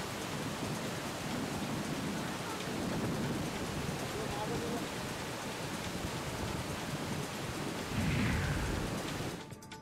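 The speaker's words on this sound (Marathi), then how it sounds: "पुणे शहरासह जिल्ह्यात मुसळधार पाऊस सुरू आहे" Heavy monsoon rain pours steadily over Pune city and district, a dense continuous hiss that stays loud throughout, with a low rumble of thunder swelling near the end.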